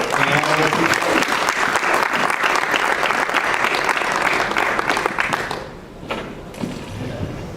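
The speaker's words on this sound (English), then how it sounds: "So Anessa, big round of applause." Audience at the University of Florida's first Blockchain Conference gives a speaker a big round of applause, loud dense clapping that holds for over five seconds, then drops away to a few thuds and footsteps.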